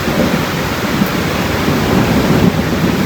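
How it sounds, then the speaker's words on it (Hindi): Monsoon rainwater pours off a rooftop in Manali like a waterfall, a loud, dense, continuous roaring splash with no break, close by and unaccompanied by talk. "हमारी छतों से देखो पानी कितनी स्पीड में गिर रहा है"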